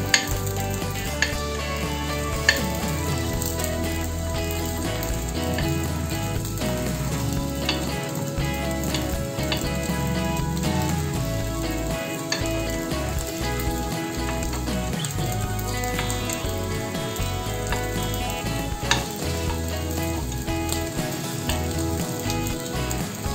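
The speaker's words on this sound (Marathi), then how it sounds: "आता 3-4 मिनिटं झालेले आपण हे आप्पे आपले उलटवून घेऊ." Fasting rice dumplings (upwas appe) fry in an appe pan with a steady, close, continuous sizzle and crackle lasting throughout, with no talking.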